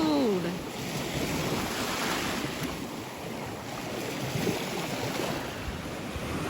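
Steady ocean surf washes and rumbles on an empty, cold beach, a broad continuous roar with wind buffeting the microphone.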